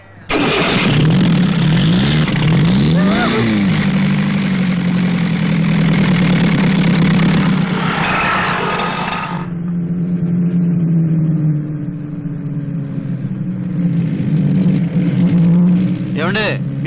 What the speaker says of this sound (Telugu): Engine first class. కానీ కొంచెం మోత వస్తుందండి, భయపడద్దు.